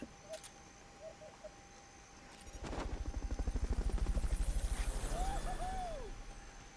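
Recovery helicopter in Metal Gear Solid: Peace Walker, its rotor chop swelling in from about the midpoint into a loud, steady rhythmic thumping with a low drone, accompanied by brief synthetic chirps and tones.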